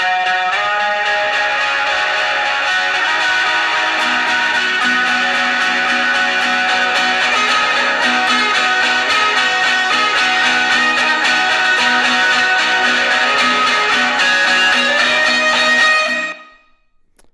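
A guitar solo played through spring reverb from the Caverns plugin and a driven tube mod, a loud, dense, sustained wash of distorted notes over a full backing that rings steadily for about sixteen seconds before cutting off abruptly.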